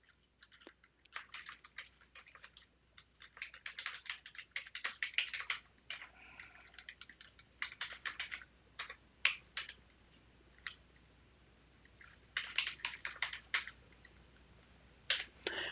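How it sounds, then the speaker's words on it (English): Quiet, close typing on a computer keyboard, irregular bursts of crisp key clicks with short pauses between, no voices. "I'll just have to type it in for you."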